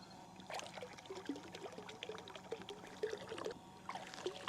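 Water runs and trickles into a container holding the last of some concentrated Nature's Blue pond dye, a close, uneven pouring splash that carries on steadily.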